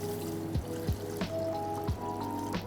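Water is poured into a pot holding Australian beef brisket cubes, spices and chicken stock seasoning for beef rendang, a close, continuous trickling stream with rising tones and a few gurgling splashes.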